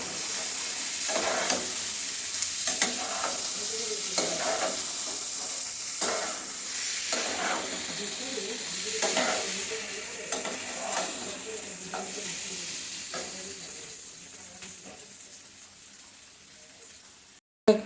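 Flour dhoka pieces sizzle steadily in hot oil in a pan while a spatula stirs them, with repeated scraping strokes over a continuous close frying hiss and no talking.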